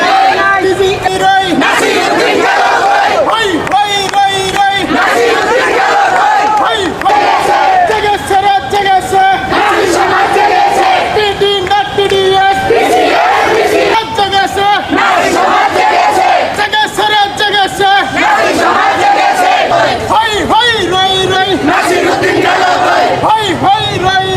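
A crowd of nurses on a black-flag protest march in Natore chants slogans together in loud, continuous call-and-response bursts, voices massed and close with no pause across the whole stretch.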